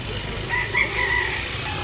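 A one-year-old gray fighting cock for sale in Cebu crows once in the middle of the clip, fairly close and clear over steady outdoor background noise.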